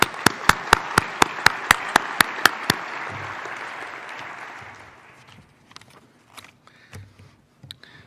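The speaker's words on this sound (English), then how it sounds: "How about a nice round of applause for our premier partners?" Audience applause fills a convention awards lunch, beginning with a few sharp claps and building into steady clapping that fades out over about five seconds, followed by scattered faint room noises.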